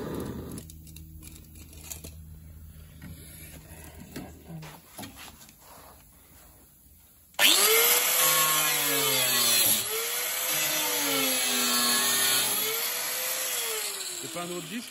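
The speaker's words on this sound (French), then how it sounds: "Ça va mettre un petit coup de meuleuse" An angle grinder on a rusty body panel of a BMW 635 CSI, with quiet scraping and voices before it starts abruptly, then a loud, close, high whine that dips and rises as the disc bites the metal.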